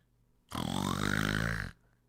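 One long, deep, buzzing croak held for about a second, like a frog, most likely produced by a voice imitating it in a told fairy tale.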